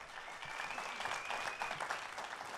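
An audience applauds at a live Occitan music show in Toulouse, with steady, dense clapping throughout and a thin high whistle-like tone running through the middle.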